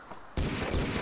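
Grenade exploding in a wild deer simulator game: a sudden loud blast after a quiet moment, its rumbling crackle sustained for most of a second, with no talk.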